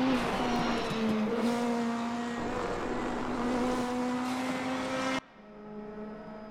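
A BMW M4 DTM race car roars at sustained high revs in the RaceRoom sim at Hockenheim, a loud steady engine drone with shifting pitch that cuts off abruptly near the end, leaving a quieter lingering engine tone.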